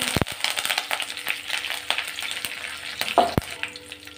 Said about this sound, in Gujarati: તેલ આપણું ગરમ થાય ત્યારબાદ તેમાં આપણે 1/2 ચમચી રાઈ, 1/2 ચમચી જીરું, 2 તમાલપત્ર, મીઠા લીમડાના પાન એડ કરીશું